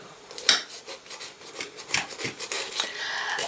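A knife saws through a loaf of homemade bread, soft rasping strokes of the blade against the crust at close range, fairly quiet and uneven in rhythm, with a light clink near the start.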